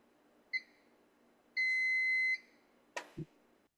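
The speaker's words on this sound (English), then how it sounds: "my computer continues to beep behind me" A computer gives a short series of electronic beeps, two clear tones with the second held longer, followed by a brief click and thump, in an otherwise quiet room.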